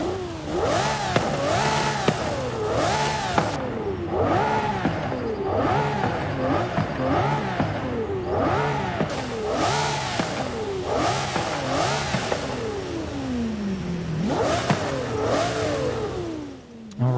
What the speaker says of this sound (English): I'm going to let you listen to this Lambo for a second